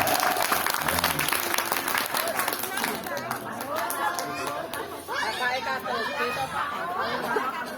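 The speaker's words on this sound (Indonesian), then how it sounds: "Tepuk tangan yang meriah untuk ibu-ibu dan para remaja." A hearty burst of applause for the women and youth at an Indonesian Independence Eve community gathering, loud clapping mixed with crowd chatter that fades into overlapping voices and babble.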